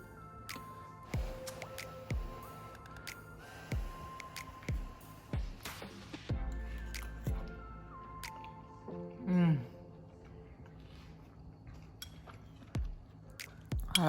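Someone eats tofu soaked in vegetarian green Thai curry, with soft wet chewing, squishing and occasional utensil clinks against a bowl, close and quiet, under faint room sound and brief voices.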